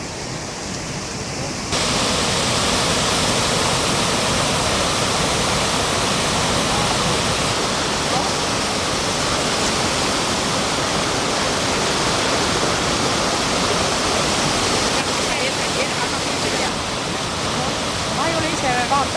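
A river flows around a bend with a loud, steady rushing wash of water that holds constant and unbroken throughout.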